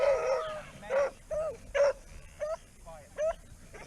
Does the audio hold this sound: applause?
no